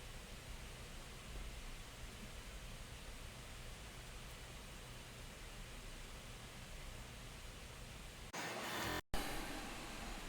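Fan noise from a 2025 Lenovo Legion 5 15.1-inch gaming laptop running under full load: a steady, even broadband whoosh that holds throughout, then shifts briefly near the end with a short cutout.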